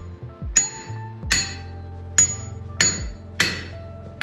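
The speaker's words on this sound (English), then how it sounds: "I can be standing next to the anvil and be directly hammering onto it." A hammer strikes a cast anvil deadened with a silicone bead on its stand, giving five close, sharp blows with short metallic decays and little ring.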